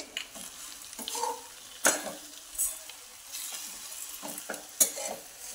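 Hadga flowers and raw moong dal are stirred together in a frying pan under a soft sizzle. A spatula scrapes and taps the pan several times, with a few sharp metallic clinks, and no one speaks.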